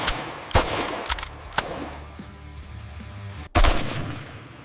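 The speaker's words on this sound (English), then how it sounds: "Proof rounds generate higher pressure than standard ammunition to test barrel strength." An AK-47 rifle firing high-pressure proof rounds on a factory test range: a handful of sharp, loud single shots spaced irregularly, each with a short echoing tail, and no talk.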